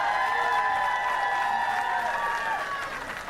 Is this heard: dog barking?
no